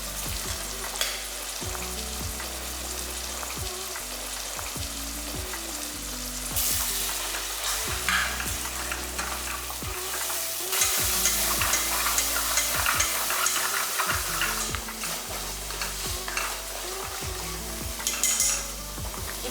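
Eggs cracked into hot oil and frying for a Tamil-style egg salna, a steady loud sizzle with repeated clinks and scrapes of a spoon stirring against the pan, no voices heard.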